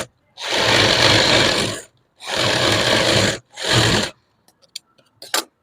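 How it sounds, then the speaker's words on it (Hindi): A sewing machine stitches a simple suit garment in three loud, steady bursts, the last shortest, followed by a few faint clicks and small handling knocks. "अब हम इसमें दूसरी सिलाई लगाएंगे।"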